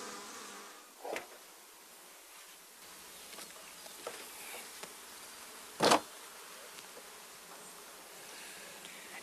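Honey bees buzzing around a one-story beehive, faint scattered buzzes over quiet outdoor air, with one louder bee passing close and briefly.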